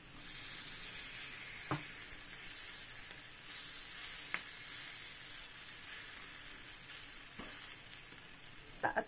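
Ragi vegetable pancakes sizzling in a large pan, four at once, with a steady soft hiss and a few sharp crackles, no voices.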